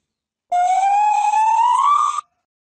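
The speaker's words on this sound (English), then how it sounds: "Gibbon." One long, rising whooping call with a pure, tonal, siren-like quality, loud and steady for nearly two seconds before stopping abruptly.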